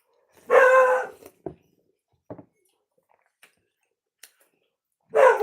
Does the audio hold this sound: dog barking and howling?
yes